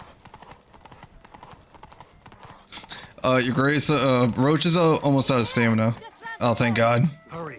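Roach, a horse in a video game, gallops with fast rhythmic hoofbeats that continue under loud, excited voices.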